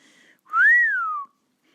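A person gives one long whistle of amazement that slides up and then gently falls, clear and close, with nothing else heard around it.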